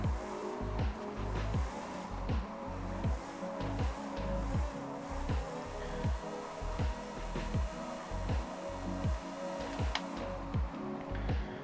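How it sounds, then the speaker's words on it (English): A Ferrari F40 drift car spins donuts, its engine pulsing in a steady repeating rhythm as the tires squeal with each rotation, heard from a distance at a fairly low level. "Now we do donuts in our Ferrari F40 drift car."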